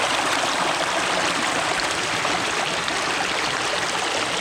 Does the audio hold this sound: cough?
no